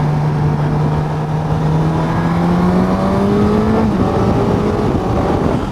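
A Suzuki GSX-S1000GT motorcycle accelerates on the road, its engine note rising steadily in pitch, then briefly dipping and climbing again as it shifts up, loud and close under continuous wind rush.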